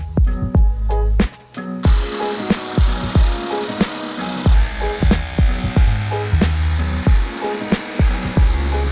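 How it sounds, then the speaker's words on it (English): Soft 3003 series aluminum sheet metal being cut, with a series of sharp, loud, close cutting strokes and clanks in an irregular rhythm and short gaps between them, and no talking. "we gotta cut some metal down so we can stamp it"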